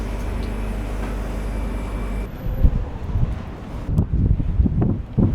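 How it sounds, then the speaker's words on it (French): Strong wind on the French Riviera buffets the microphone, a loud rushing roar that shifts into gusty low thumps and rumbles in bursts toward the end. "Je me fais emporter par le vent, hein, en sérieux."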